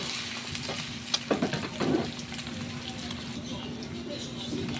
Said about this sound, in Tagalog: Haluin lang natin guys hanggang sa maluto